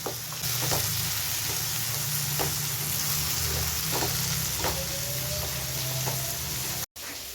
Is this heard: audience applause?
no